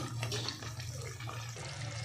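Water splashing and pouring into a pan, a short burst of gurgling liquid against a low steady hum.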